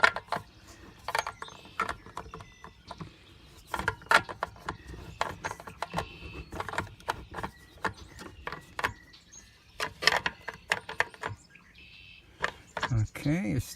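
A screw on a floodlight mount being tightened by hand, giving a series of sharp ratcheting clicks and squeaky turns in uneven bursts, with birds chirping outdoors in the background.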